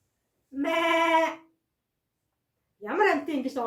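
A human voice imitates a sheep or lamb bleating with one sustained wavering bleat, followed after a pause by speech, close and clear in a quiet room.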